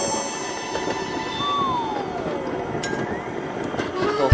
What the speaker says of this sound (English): The mine train.